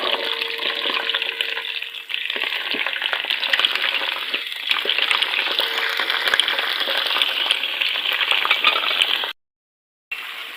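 Potatoes go into hot oil with cumin and green chillies and set off a steady, loud sizzle of frying that carries on throughout, with faint clinks and stirring underneath and a brief drop to silence near the end.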